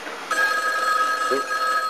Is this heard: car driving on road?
no